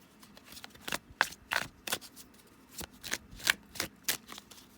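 Tarot cards are shuffled and drawn by hand, giving a series of quick papery riffles and flicks in irregular bursts, close and fairly quiet, with no talking.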